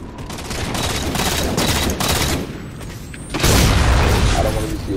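Rapid gunfire in Halo 4 Capture the Flag, with steady automatic bursts and a heavier booming volley, loud and close.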